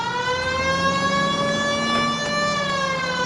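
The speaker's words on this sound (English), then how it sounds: "Cole, turn on the siren and pull her over." Police car siren from the video game LA Noire wailing steadily and loudly, a sustained rising and falling tone with layered harmonics over a low engine rumble, no voices.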